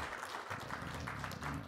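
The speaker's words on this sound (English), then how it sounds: "There's a big applaud right there." Audience applause at the VerdeXchange 2017 conference in Los Angeles, a steady broadband patter of many hands clapping at moderate distance. It sustains through the whole moment without a clear break.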